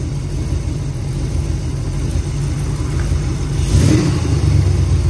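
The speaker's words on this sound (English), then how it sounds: "I can actually idle it up a little bit if I want to" Oldsmobile 403 V8 on a test run, idling steadily and close, then raised slightly to a higher idle toward the end, alone with no voices.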